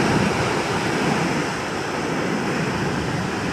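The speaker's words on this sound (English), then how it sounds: "The other waterfall here in the national park." Steady broadband rush of a waterfall in an Icelandic national park, continuous and fairly loud with wind buffeting the microphone, no voices.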